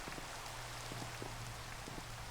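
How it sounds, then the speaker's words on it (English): Rain falling in Minecraft, a soft, constant hiss with scattered faint droplet ticks and a low steady hum underneath, quiet and uninterrupted by speech. "this is not considered a thunderstorm. It's just it raining."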